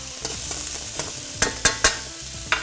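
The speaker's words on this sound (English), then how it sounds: "you can see that oil is really smoking hot now. So my salmon can go straight in." Salmon bites searing in smoking-hot oil in a pan, a steady broadband sizzle with a few sharp spits and crackles, close and loud, no voices.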